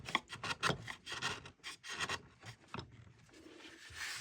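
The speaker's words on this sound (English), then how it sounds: "we're just cutting it away with the chisel" A hand chisel, bevel inside, pares and chamfers the inner edges of a wooden seven-string lyre frame, giving irregular close scraping and rasping strokes with short pauses between them.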